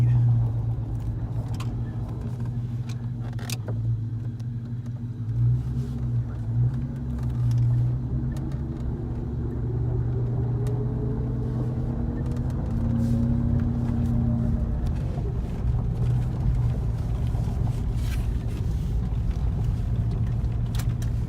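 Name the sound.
car driving on a test drive after CAI install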